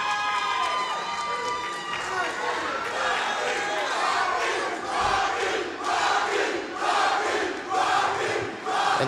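Crowd noise at a cage fight, a continuous roar of spectators with shouts and cheers rising in bursts, loud and steady throughout.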